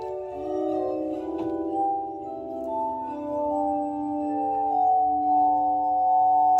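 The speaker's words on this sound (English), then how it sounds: "I've seen people play glass cups before." Glass cups played as an instrument, sustained ringing tones that layer and shift into a slow melody, clear and fairly close with no talking.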